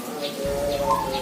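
A perkutut (zebra dove) gives soft, tonal cooing notes, faint and brief.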